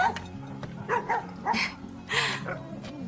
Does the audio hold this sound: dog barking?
yes